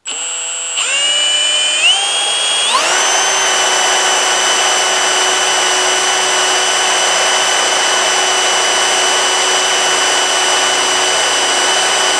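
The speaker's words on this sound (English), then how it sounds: "we'll drill that little hole out." A power drill whines up in pitch as it spins up, then runs at a steady high whir for several seconds, close and loud, drilling out a small hole.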